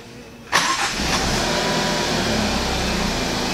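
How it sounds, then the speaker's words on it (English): An Alfa Romeo Giulia engine cranks and fires with a sudden loud burst, then settles into a steady, even idle close by, with no talking. "you can go ahead and turn off the car and start it back up."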